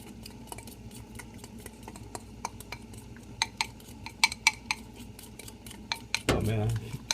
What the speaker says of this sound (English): we're just going to go ahead and mix all of that together